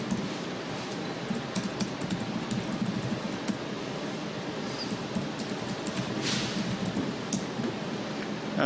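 Someone types a passphrase on a computer keyboard while signing a Debian package, producing a steady run of close, light key clicks over a soft background hiss with no talking.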